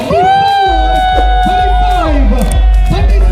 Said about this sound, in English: Ladies and gentlemen, can you hear that cheer?